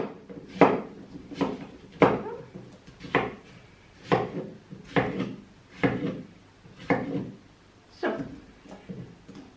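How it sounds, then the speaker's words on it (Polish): Peeled cucumber is chopped into small pieces on a wooden board, about ten distinct knife strokes in a fairly regular rhythm, close and clear with no talk. "I teraz go kroimy w takie mniejsze kawałki."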